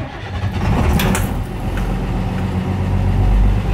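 1988 Blue Bird International S1800 bus cranking on a cold start, a loud, continuous close-up engine churn with a low rumble that stays steady throughout.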